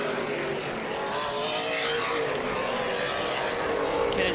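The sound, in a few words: race cars driving past on track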